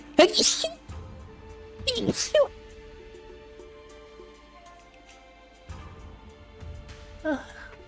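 A person sneezes sharply, then a second sneeze-like burst follows about two seconds later, close and loud over a quiet steady tone in the background.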